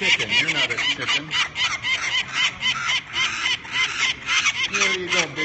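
Harsh, rapid repeated peregrine falcon alarm calls atop Philadelphia City Hall, loud and close, with a continuous chattering rhythm and no talking.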